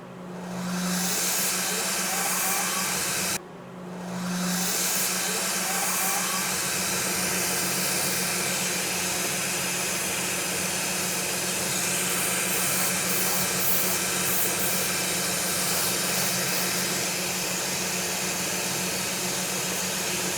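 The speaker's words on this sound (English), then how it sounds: "Now we're going to take it to the grinder, get things cleaned up" A bench grinder runs steadily and loud while cleaning up the edges of an orthotic in a workshop. There is a steady hum with broadband hiss, a brief dip in the sound near the start, and no talk.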